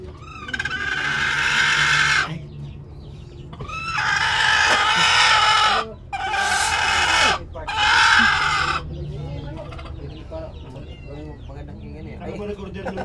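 Chickens cluck and squawk in loud bursts, with a rooster-like call among them, while people talk nearby.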